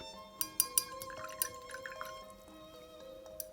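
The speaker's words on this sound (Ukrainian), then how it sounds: "Щоб взяти жовтий колір, мені потрібно помити свій пензлик." A paintbrush swishes and taps in a glass jar of rinse water, a quick series of small drips, clinks and liquid plinks, close and quiet with no speech.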